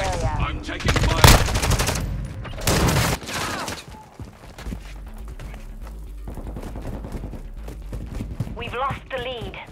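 Rapid automatic gunfire bursts in Call of Duty: Modern Warfare 2 during a hardpoint match, loud close volleys that stop and then return, with game voice lines in between.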